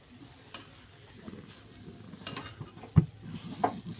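Rice flour dough being stirred in a pan, quiet scraping and faint sizzling with a few louder knocks of utensil against the pan, close and intermittent, with no talking.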